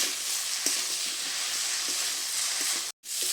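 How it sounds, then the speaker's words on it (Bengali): Fried banana 'fish' pieces are stirred into spiced masala in a hot pan, giving a steady sizzle and hiss with occasional soft scraping taps of the spoon and a brief gap near the end. "এবারে আমি এখানে দিয়ে দেবো ভেজে রাখা কলার মাছ। মশলার সাথে একটু নেড়ে চেড়ে মিশিয়ে নেব।"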